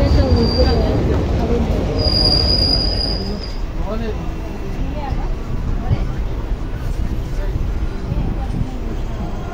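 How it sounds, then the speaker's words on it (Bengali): A train rolls into Duliajan station platform with a heavy rumble and a high wheel squeal, slowing as it arrives, loud and close with voices faintly in the background. "দুপাল্লার ট্রেন চলে আসলো"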